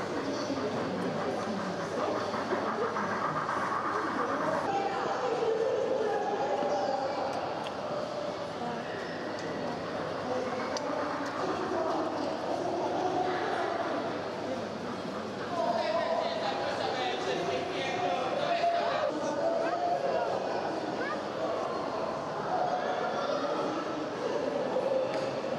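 H0-scale model railway trains run on a layout at a model railway exhibition, a soft continuous rolling hum under a busy hall of voices, with people talking nearby throughout.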